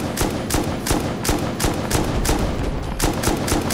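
Rapid bursts of gunfire from the modded survival game Rust, a steady run of sharp, evenly spaced shots filling the whole stretch at close range, loud and continuous with no talk over it.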